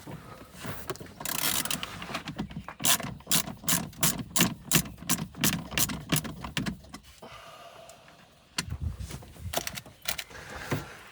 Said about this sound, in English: So let's get these bolts out.